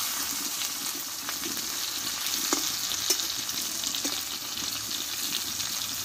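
Stuffed flat beans (sim) frying in a pan, with a steady, even sizzle throughout and a few faint clinks and stirring taps, with no voices.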